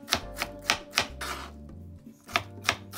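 Knife chopping garlic cloves on a cutting board for a sofrito, a steady series of about ten sharp close taps with a short pause midway, no voices.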